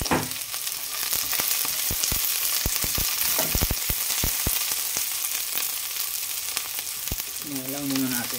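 Onions sizzle and fry steadily in a hot pan during a catch-and-cook meal, with scattered sharp crackles and pops, close and continuous, and a brief voice near the end.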